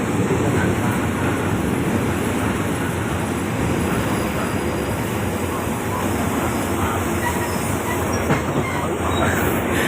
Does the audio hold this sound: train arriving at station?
yes